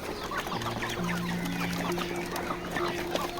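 Poultry flock clucking steadily at close range while drinking water after a deworming dose, with continuous overlapping calls and a low farmyard hum throughout.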